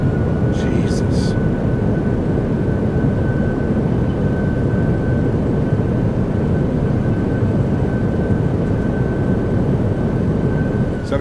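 Simulated PMDG Boeing 737-800 landing rollout at Nashville with thrust reversers in a flight sim game, a loud, constant low engine rumble with a steady tone throughout, and a brief chime near the start.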